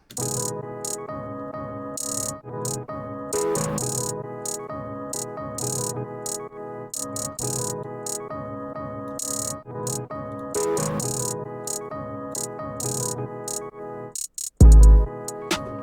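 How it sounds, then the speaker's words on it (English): A trap-style beat plays with fast arpeggiated hi-hat rolls chopping into tiny rapid ticks over bass and melodic layers, loud and continuous with no voices, then briefly drops out near the end before a heavy low thump. "this whole hi-hat section is all rolls"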